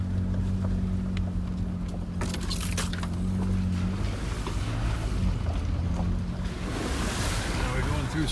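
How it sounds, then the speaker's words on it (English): A Jeep drives along a mountain trail through puddles and past a creek, its engine droning steadily up close while water splashes and sloshes louder toward the end, with wind buffeting throughout. "Now we're going through some more puddles, and we just passed another creek."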